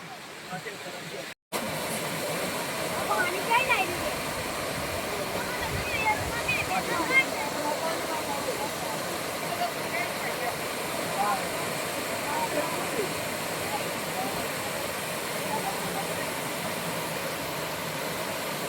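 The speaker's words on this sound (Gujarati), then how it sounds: "મસ્ત ધોધ પડી રહ્યો છે" A waterfall at the Khodiyar temple in Gir pours with a steady, broad rushing roar throughout, heard from nearby, with a brief dropout near the start and faint voices in the background.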